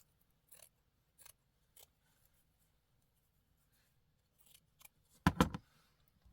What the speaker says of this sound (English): let's cut a couple more pieces